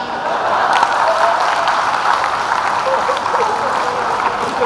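Comedy show audience claps loudly and continuously, a thick sustained wash of applause close by, with faint voices mixed under the clapping.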